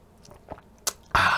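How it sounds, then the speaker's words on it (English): Someone takes a quick sip of tea near a lav mic: a soft slurp and a click, then a louder swallow or mouth noise at the end, close up and alone. "Let me take a quick sip of tea here."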